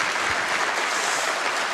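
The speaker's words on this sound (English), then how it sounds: "you can clap, I don't mind" A rally crowd at a Donald Trump speech in Ottumwa, Iowa, breaks into applause, a thick, uniform roar of clapping heard close and steady throughout the short burst.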